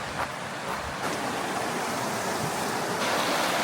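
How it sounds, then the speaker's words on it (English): Spruce Run Creek, flowing into the Nehalem River at a quiet riverside campsite, gives a steady mid-level rushing babble of water with a slight swell toward the end and no voices. "This is Spruce Run Creek, and it runs into the Nehalem River down there."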